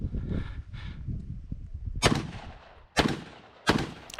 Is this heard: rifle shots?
yes